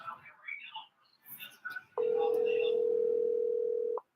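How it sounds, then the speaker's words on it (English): A telephone ringback tone sounds as one steady, even two-second burst, loud and close, after a few seconds of quieter mixed sound. "It's ringing. Let's see if she picks up."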